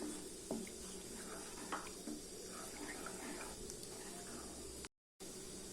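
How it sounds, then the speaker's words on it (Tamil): Tamarind water is poured into a simmering kofta curry as a soft, steady liquid trickle and hiss, close and continuous with no speech, broken only by a very short gap near the end. "இப்போ நான் ஒரு சின்ன எலுமிச்சி பழம் சைஸுக்கு புளி கரைச்சி வச்சுருக்கேன் அதை சேர்த்துக்கிறேன்"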